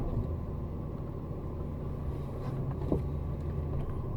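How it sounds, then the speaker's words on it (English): A Ford Fiesta Mk6, just after a brake pipe replacement, rolls around a corner and picks up speed, giving a steady low engine and road rumble from inside the car with no talking. "Just get it around this corner, get it up to a little bit more speed."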